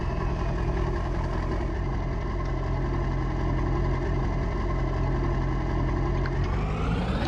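A video game 7.3 diesel truck engine idles continuously with a steady rumble at close range, a low droning tone and a slight rise near the end.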